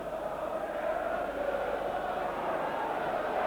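A football stadium crowd at a Spurs versus Manchester City match roars in a sustained, even wash of cheering and noise, broad and fairly loud throughout.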